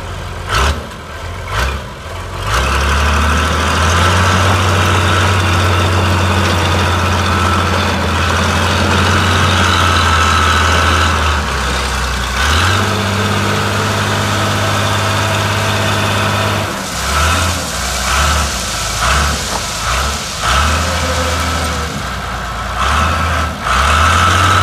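A 1993 Case 855E crawler loader engine starting and then idling, a loud, steady diesel rumble with a few throttle changes and brief dips in the middle and near the end.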